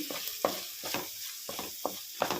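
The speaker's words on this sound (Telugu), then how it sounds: "ఈ గ్రేవీ కూడా వేసేసుకుందాం ఇవి కొంచెం వేగనియాలి" Egg curry gravy fries in a pan under a light sizzle, broken by several sharp scraping stirs at an uneven pace. No one speaks.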